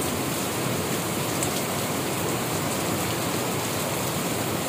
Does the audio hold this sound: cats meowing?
no